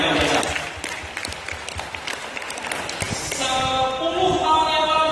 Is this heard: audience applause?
yes